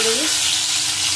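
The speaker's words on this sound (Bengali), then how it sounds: "কিশমিশগুলো ভেজে নেব।" Raisins frying in hot oil give off a steady, close sizzle with a short bubbling rise at the start, and the hiss holds without pause and with no voices.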